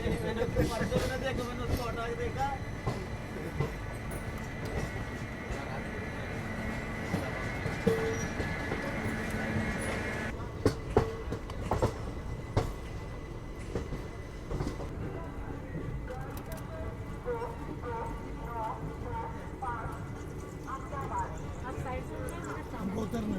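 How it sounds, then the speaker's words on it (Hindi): Coimbatore–Rajkot Express pulling into Ahmedabad Junction station, a continuous rumble of rolling carriages with wheel clatter and sharp clicks over rail joints midway, the sound shifting as the train slows, with people talking in the background. "अभी अपना अराइवल हो रहा है अहमदाबाद जंक्शन रेलवे स्टेशन पे"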